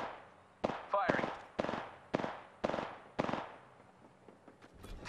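Gunfire in the video game Apex Legends comes as six sharp, loud bursts about half a second apart, each decaying quickly, with a short voice-like chirp among them and quieter noise after.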